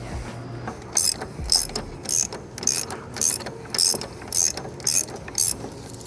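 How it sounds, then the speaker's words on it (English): A ratchet undoes the pinch bolt on an MK7 GTI coilover, eight or so quick bursts of sharp clicking at an even pace, close and crisp with brief pauses between strokes. "I'll undo the pinch bolt first and then get the spreader"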